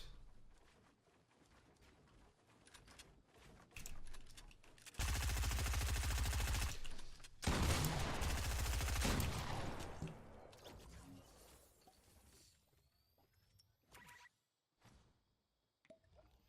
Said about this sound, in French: le pompe qui met des gros dégâts, on aime